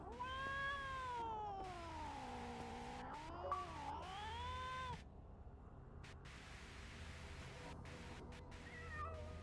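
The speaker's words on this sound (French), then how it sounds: "Un autre chat là." Cats meow and caterwaul in the Frightence video game, one long wavering cry rising and falling loudly up front, then a brief second yowl, followed by quieter static-like background hum.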